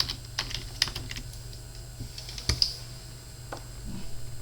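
A computer keyboard typed on to enter a new project name in PyCharm on Windows 10: a handful of close, crisp key clicks in short irregular bursts with pauses between, no talking.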